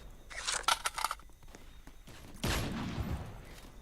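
Gunfire in the Roblox shooter Strucid: a burst of rapid crackling shots, then a louder, sustained rumbling blast with scattered clatter, fairly close and with no talking.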